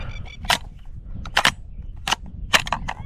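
Rifle shots ring out during a small game hunt on a farm, a quick irregular series of about six sharp, loud cracks with short gaps between them.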